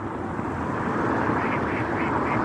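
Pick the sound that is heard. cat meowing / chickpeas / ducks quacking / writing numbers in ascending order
ducks quacking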